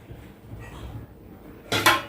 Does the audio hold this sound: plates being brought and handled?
yes